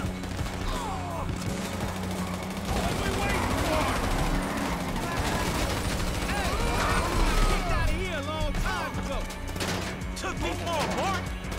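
Sustained gunfire in GTA V fills the scene, dense overlapping shots rattling loudly and continuously with people talking and shouting over the top throughout.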